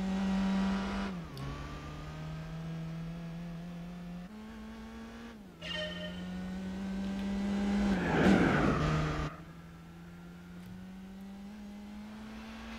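Race car engine in Gran Turismo 4, a fairly slow car heard on replay: a steady loud drone that drops with gear changes and rises again, with a brief tire squeal midway and no talk.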